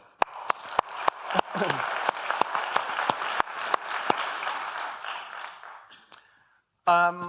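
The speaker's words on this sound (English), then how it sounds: "Round of applause." Audience applause at a UX talk: loose, scattered claps from a room rise and fade, ending with a brief silence before a distinct short tonal sound.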